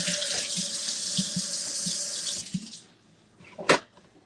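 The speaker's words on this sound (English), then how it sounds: "let me wash my hands" Tap water runs steadily into a kitchen sink for hands being washed, a close hiss that stops after about two and a half seconds, followed by a few faint clinks and a brief splash.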